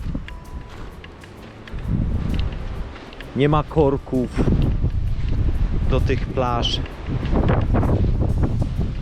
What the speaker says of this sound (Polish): No owszem, no jest wiatr.